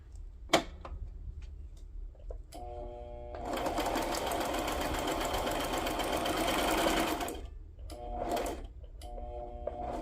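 A sewing machine running a straight stitch, starting with short bursts, then stitching steadily for about four seconds before stopping and giving a few more short runs. It is close and clear, with no one talking.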